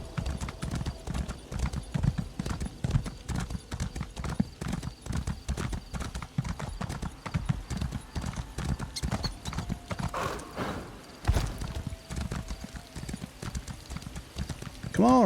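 A horse gallops in the video game ESO: High Isle, its hooves clip-clopping in a fast, steady rhythm throughout, with a brief whinny near the end and a voice talking over it.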